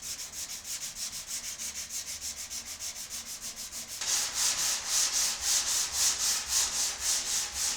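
Rhythmic back-and-forth sanding strips Bondo body filler from a Ford F250, each stroke a gritty rasp; the strokes grow louder and harsher halfway through and keep a regular pace.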